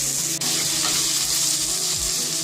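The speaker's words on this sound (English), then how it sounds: "Now I'm going to add the sliced onions into the oil and again saute it till they become soft." Sliced onions sauteing in hot oil give a steady, close sizzle, with faint stirring or scraping noises under it and no talking.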